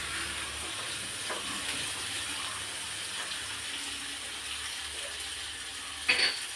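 Pickle being stirred in a pan, a steady soft sizzle with faint scraping throughout and a brief sharper clink of utensil against the pan near the end; no talking.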